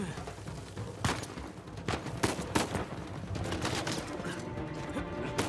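Gunfire in the video game Uncharted 4, with a dense fusillade of sharp shots and bursts cracking irregularly throughout, loud and layered over game ambience.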